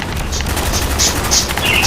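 A scoped RPK machine gun in Call of Duty: Black Ops firing a steady, fast burst of heavy rounds, loud and close, with brief metallic clinks layered over the rattle.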